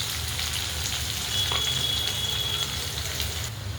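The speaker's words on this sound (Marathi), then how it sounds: "थोडासा कांदा टाकूया फोडणीसाठी" Sliced onion hits hot tempering oil with cumin, mustard seed and curry leaves, giving a loud continuous crackling sizzle close by that runs steadily throughout with no voices.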